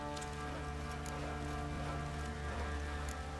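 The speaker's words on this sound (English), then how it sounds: "Puffballs have brought us rain." Rain falls steadily in The Witcher 3: Wild Hunt, a soft continuous patter under a low game ambience hum, with no talking.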